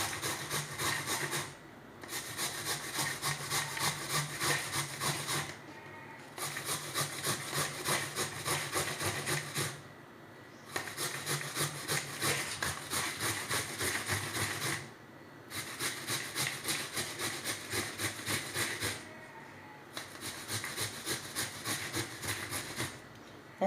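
Peeled apples being grated by hand for homemade jam, a loud rhythmic rasping in long strokes grouped into bursts, with short pauses between each run of scraping, close and alone without talk.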